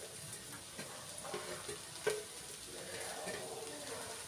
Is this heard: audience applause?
no